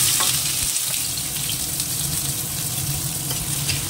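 Onions sizzle and fry steadily in hot oil in a wok, a dense, even crackle that stays close and loud throughout with no voices.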